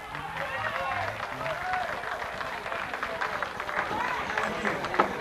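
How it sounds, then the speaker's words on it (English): Concert audience at a 1992 show at the Metro Renaissance applauding, a dense wash of clapping and crowd noise lasting throughout with a singer's voice faintly over it. "big hand for applauding"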